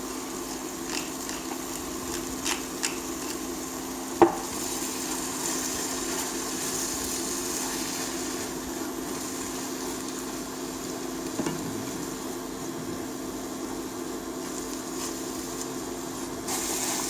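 Vegetables for a spaghetti sauce frying in a pan with chili flakes, salt and pepper give a steady low sizzle with a constant hum, broken by a few faint clicks and taps.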